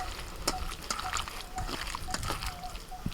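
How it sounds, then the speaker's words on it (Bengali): Chicken breast being hand-mixed with a wet marinade for Bihari kebab, giving soft repeated squelching and sloshing close up, with light clicks under steady background noise. "একদম সুন্দর করে মাখিয়ে দিচ্ছে"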